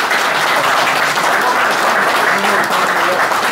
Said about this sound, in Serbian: Ja vas molim jednim velikim aplauzom da pozdravimo našim Nijazima